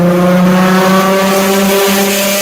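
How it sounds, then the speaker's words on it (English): A loud car engine drones close by on the street, a steady sustained roar with strong low tones that holds throughout the moment without any talking. "I had to wait for that car to go by. That was extremely loud."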